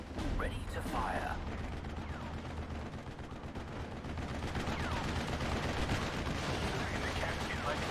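Artillery and small-arms gunfire in the WWII strategy game Steel Division: Normandy 44 at Pegasus Bridge, a dense continuous battle din of rattling shots and thuds with game voices talking over it.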